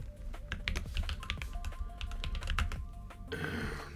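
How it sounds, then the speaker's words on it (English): Fast typing on a computer keyboard during homework, a dense rapid patter of key clicks, close and steady, with a brief softer rustle near the end. "I'm always just typing real fast"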